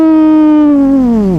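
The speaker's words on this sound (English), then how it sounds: "Little baby rev, that sounds good." A 2024 Suzuki GSX-R1000 with a LeoVince exhaust blips its engine in one loud, close rev, a steady tone that drops in pitch as it falls back over about a second.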